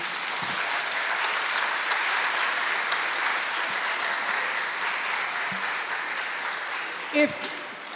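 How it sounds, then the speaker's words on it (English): Steady applause fills a high school spring band concert venue, a broad even patter of many hands clapping for teachers and students, with a few isolated bumps and a short voice near the end. "can you give them all a round of applause for them and their students?"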